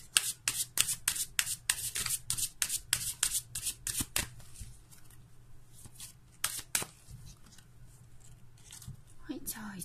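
Tarot cards are shuffled by hand in a quick run of crisp riffling snaps up close, easing into softer sliding and occasional flicks, with a faint background hum.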